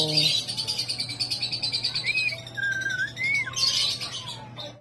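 African lovebirds in a breeder cage, just after feeding, give rapid chirps and sharp tweets up close. The calls repeat in quick bursts, with a few rising whistled notes, over a faint steady hum. No one speaks.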